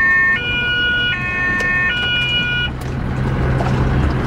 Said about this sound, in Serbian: A imate sirene?